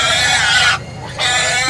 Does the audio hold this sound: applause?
no